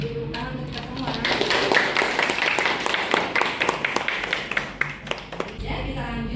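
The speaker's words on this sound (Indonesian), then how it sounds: "Jadi tepuk tangan untuk kita semua." Audience clapping at the close of a teaching and curriculum workshop, a short round of scattered, sharp claps in a room that tapers off within about five seconds.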